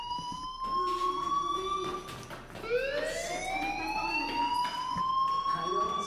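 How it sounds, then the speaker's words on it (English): A fire alarm in the video game Life Is Strange sounds in rising electronic whoops, repeating several times at moderate volume with background game noise. "do you hear that fire alarm? That means you should be outside."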